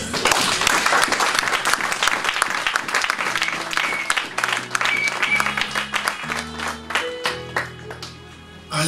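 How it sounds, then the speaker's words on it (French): A church congregation claps and cheers loudly in praise of the Lord, dense applause filling the space as organ or keyboard chords rise beneath it toward the end. "On peut acclamer le Seigneur."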